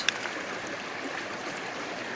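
A stream runs over rocks beside a riverbank where gold prospectors work after heavy rains, giving a steady, faint, hissing rush of flowing water throughout with no talk.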